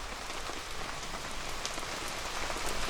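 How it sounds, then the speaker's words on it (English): Steady rain patters on a camp shelter in autumn woods, an even, continuous hiss of drops without pause or voices. "So a nice little task while it's raining, guys"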